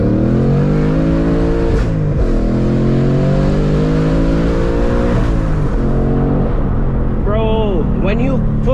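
A 2021 Ford Mustang Mach 1 engine revs hard at full throttle, loud and close, the pitch climbing through each gear in a steady roar before easing off near the end, with voices talking over it.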